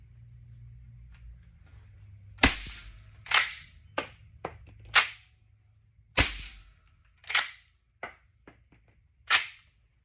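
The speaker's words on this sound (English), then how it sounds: "doing a test fire of the OSS M1 Carbine" An integrally suppressed OSS M1 Carbine reproduction fires eight sharp, dry cracks in two irregular groups, each report short with a brief tail, over a quiet low hum and no talk.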